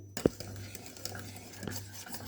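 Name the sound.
stirring custard cream in a pot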